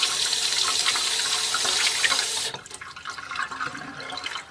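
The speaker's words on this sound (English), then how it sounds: "just rinse off the outside" Tap water runs steadily over the outside of a drilled glass piece for about two and a half seconds, then cuts off, leaving faint drips and small handling noises.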